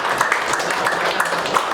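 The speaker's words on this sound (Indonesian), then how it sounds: "kasih tepuk tangan untuk Pak Guru" Audience applause for a teacher at an industrial-estate outreach session in Batam, a steady wash of clapping from a room of listeners lasting under two seconds with no speech.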